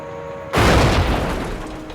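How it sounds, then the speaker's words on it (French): A thrown grenade detonates beside a tank's track in a Vietnam War battle at Lang Vei: one loud, close, deep boom erupts after a brief hum of ambience and rolls on in a rumbling roar. "La grenade que j'ai lancée a explosé près de la chenille."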